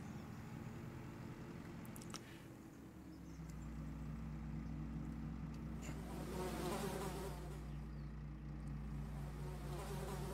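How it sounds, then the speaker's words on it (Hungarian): Flies buzz around manure in Farming Simulator 22, a steady, close insect drone that lasts throughout over a low continuous hum with no talking. "döngicsének ám a legyek a ganyé körül"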